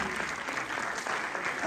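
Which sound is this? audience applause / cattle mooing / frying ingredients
audience applause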